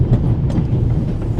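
A train carriage rumbles along the rails in The Raven video game, a loud continuous low rolling clatter with faint rhythmic wheel clicks throughout.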